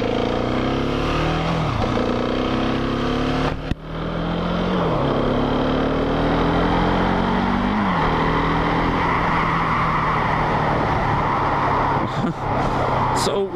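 Husqvarna 701 SuperMoto motorcycle riding and accelerating, the single-cylinder engine rising in pitch through several gears with brief dips at each shift, heard loud and close over wind noise.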